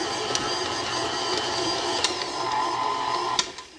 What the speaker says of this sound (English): I always make my biscuits using the stand mixer